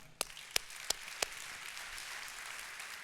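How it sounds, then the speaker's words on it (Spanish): Four crisp, close claps ring out in quick succession at a church service for the music group, followed by faint, soft applause from the congregation that lingers quietly. "vamos a darle un aplauso muy grande al grupo de música."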